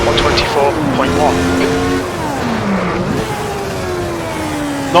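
A 1992 Lotus 107 Formula 1 car in Assetto Corsa, its high-pitched engine screaming through rising and falling revs with gear changes, loud and close throughout, with a driver talking over it.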